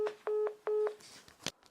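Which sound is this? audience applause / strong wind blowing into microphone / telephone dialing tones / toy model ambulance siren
telephone dialing tones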